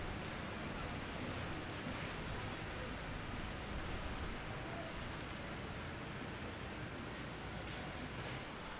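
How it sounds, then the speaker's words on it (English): Rain falls outside during a mission trip, a steady, even hiss of drops that carries on without a break, soft and unbroken, with no voices over it. "right now it's raining outside"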